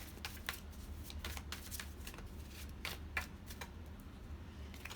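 Tarot cards being shuffled by hand, a quiet, close run of crisp riffling flutters and soft slaps repeating in irregular bursts.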